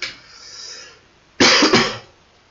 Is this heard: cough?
yes